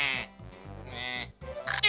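A cartoon goat bleats loudly in a comic animated episode: a wavering, nasal cry that rises and falls for about two seconds, close and alone, with a sharp higher burst at the end.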